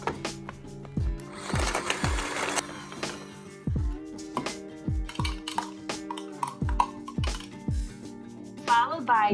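A knife mincing a single garlic clove on a board makes quick, sharp chopping knocks in uneven bursts, close by and alone, with a brief rustle between strikes.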